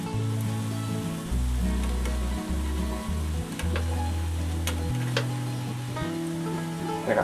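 Funnel cake batter frying in hot oil gives off a continuous crackling sizzle, steady and close, partly covered by loud music playing over it.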